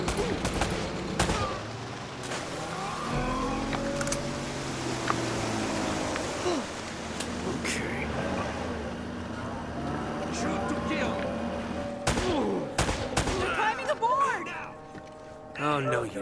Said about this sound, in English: Less talking, more shooting!